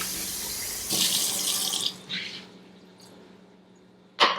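Water splashes and pours briefly into a cooking pan, a short burst of running water followed by quieter trickles and a final splash.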